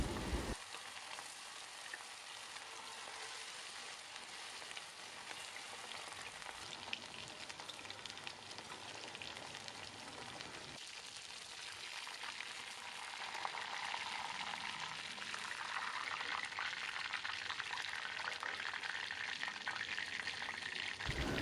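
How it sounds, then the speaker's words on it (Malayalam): A second batch of chicken pieces deep-frying in hot oil, giving a steady, dense sizzle and crackle that swells slightly louder toward the end, with no voices. "നമ്മുടെ സെക്കൻഡ് സെറ്റ് ഇതിനകത്തേക്ക് ഇട്ട് കൊടുത്ത് നന്നായിട്ട് ഫ്രൈ ചെയ്തതിന് ശേഷം"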